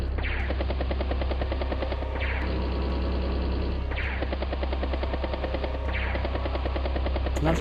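A battlecopter unit attacks in the video game Advance Wars: Days of Ruin, with a loud, steady rotor drone under repeated bursts of rapid gunfire.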